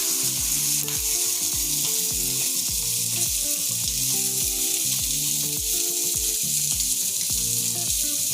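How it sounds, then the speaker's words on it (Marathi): Paneer fries in a pan with a loud, constant close sizzle and crackle, punctuated by a regular pulsing knock that repeats throughout, with no voices. "तर आता ही पनीर भाजते"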